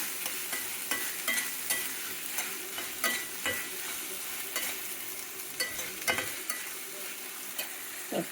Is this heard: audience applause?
no